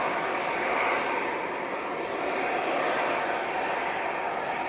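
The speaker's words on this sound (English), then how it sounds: "Emirates is taking its time to get to stand 12. Not on the quickest of taxis." An Emirates Airbus A380 jet taxis to its stand at an airport, its engines producing a steady, broad roar heard from a moderate distance throughout.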